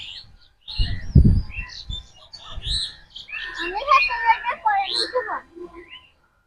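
Birds chirp and tweet in the trees around a Bengal village among swaying coconut palms, a run of quick, close calls that grows busier midway, while a voice speaks briefly near the start.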